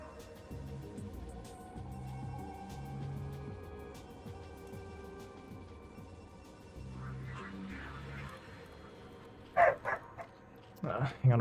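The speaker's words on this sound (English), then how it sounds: "I'm gonna put the dog up. It's been barking like this whole cast." A dog barks in a few sharp bursts near the end, close and fairly loud, after a stretch of steady voice-over commentary from a game cast.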